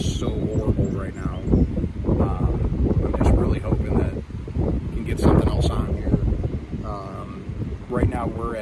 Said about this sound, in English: It's been really, really windy.